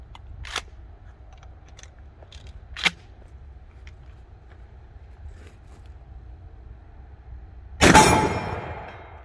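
A Mossberg 590 shotgun fires a single Brenneke Black Magic 3-inch slug outdoors: one loud, sharp blast near the end, after a few faint clicks and handling noises.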